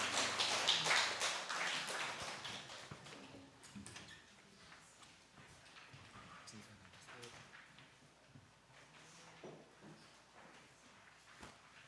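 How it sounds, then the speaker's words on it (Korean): A church congregation at a Sunday worship service breaks into applause, a dense burst of clapping at the start that quickly thins and fades as a voice speaks. "삼위 하나님께 영광의 박수 올려드리겠습니다"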